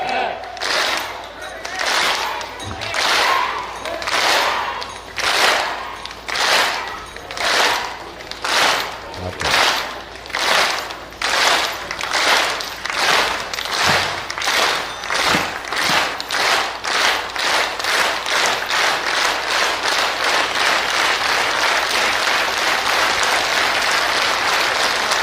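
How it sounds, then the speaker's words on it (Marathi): A large crowd at a devotional religious gathering claps together in strong unison beats, about one per second at first, then quickening until the claps merge into loud, rapid, continuous clapping. "एक टाळी ताकद लावा"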